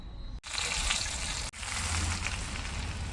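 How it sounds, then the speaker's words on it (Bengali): A whole eggplant fries in hot oil in a pan, turned by hand without a spatula, giving a loud, continuous sizzling hiss that is interrupted twice by brief near-silent gaps. "আর এটা কিন্তু আমি খুন্তি ছাড়াই শুধু হাতেই কিন্তু বেগুনটাকে ভেজে নিচ্ছি"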